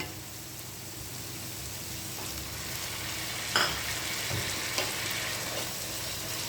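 Prawns and eggplant fry in a pan for a curry with taro, giving a steady, close sizzle with a couple of brief utensil clinks partway through.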